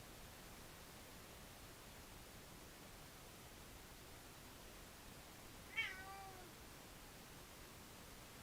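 A single short cat meow, faint and slightly distant, rising out of a steady hiss of background noise about two-thirds of the way through, otherwise nothing but static.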